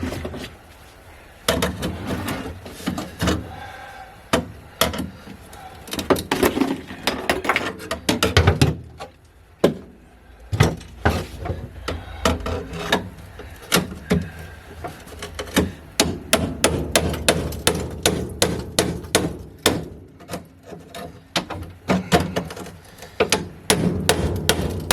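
Sharp metal hammer blows strike a spot weld on a 1972 Volkswagen Super Beetle body, coming in irregular bursts of loud close impacts with brief pauses, then faster rhythmic pounding toward the end.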